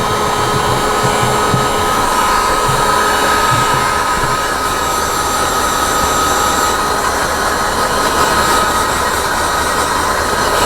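A heat gun blows steadily on the headliner of a Land Rover 90, giving an even, loud, continuous airy roar with a faint motor whine that holds without a break from start to end.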